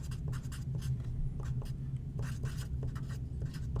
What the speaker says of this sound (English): write the dissociation for carbonic acid